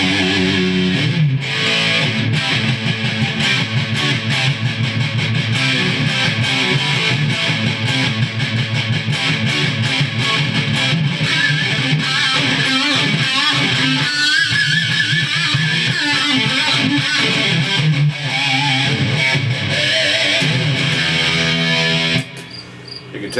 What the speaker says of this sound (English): And now if I add a whole bunch of distortion,